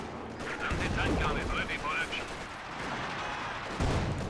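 Gunfire and artillery thud through a Company of Heroes 2 battle, repeated shots and booms close in the mix, with a commentator talking over them.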